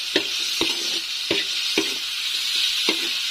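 Thai fish cakes frying in hot oil with a steady, bright sizzle. Sharp stirring knocks in the pan land about every half second over it.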